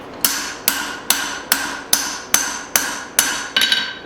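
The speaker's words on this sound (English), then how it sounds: "I'm hoping the extra hammering is going to pay off, make it look real nice." Hammer blows on hot steel while forging a tomahawk head, nine sharp ringing strikes in an even rhythm about every half second, close and loud with no talk.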